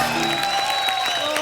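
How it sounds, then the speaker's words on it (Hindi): A television comedy studio audience claps and cheers, moderate and continuous, with a steady tonal hum and some voices underneath. "एक बार कृष्णा के लिए जोरदार ताली हो जाए।"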